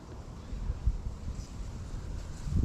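Wind buffets the microphone beside the River Thames on a December day at a club fishing match, a steady low roar that swells and gusts without any speech.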